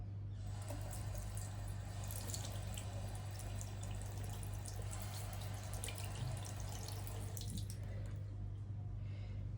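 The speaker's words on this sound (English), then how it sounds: "Now I'm just gonna run some water over it." Tap water runs steadily over a fresh tattoo, a soft continuous splashing and trickling close by with a low hum underneath, then tapering off near the end.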